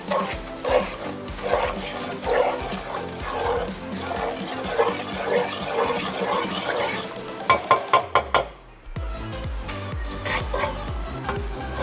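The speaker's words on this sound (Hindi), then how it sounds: "जब तक कि ये हमारी सूजी भुन रही है" Semolina roasting in ghee in a pan, stirred with steady scraping and soft sizzling throughout, broken by a short burst of sharp knocks near the end before the stirring resumes.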